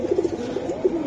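Flying pigeons of the kind called Chinese high flyers coo close by in a string of soft, low, rolling pulses that repeat steadily with no talking.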